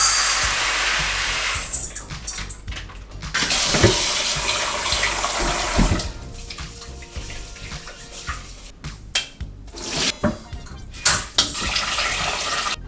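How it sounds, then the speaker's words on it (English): Sushi rice is rinsed in a bowl under running tap water, giving a loud, continuous gush with splashing and sloshing surges near the end and no talking. "Then put it into here, rinse it again until the water goes clear."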